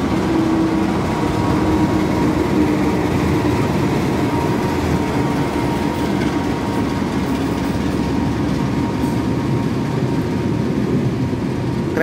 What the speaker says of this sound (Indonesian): Kereta api berikutnya yang masuk ini yaitu KA Bima.